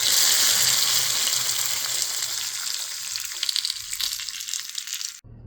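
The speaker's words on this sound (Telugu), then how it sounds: "ఇప్పుడు తాలింపు వేసేసుకుందాం." Spices for tempering hit hot oil and sizzle loudly close up, a steady frying hiss that slowly fades before cutting off abruptly, with no voices.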